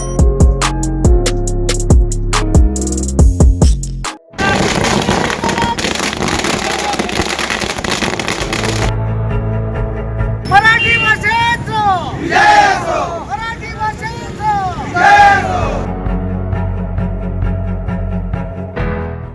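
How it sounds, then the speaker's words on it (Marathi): MNS and Shiv Sena supporters celebrating in Shirpur, with loud music and drum hits first, then a crowd roaring rhythmic slogans and cheers up close. "शिरपूरमध्ये मनसे शिवसेनेचा जल्लोष"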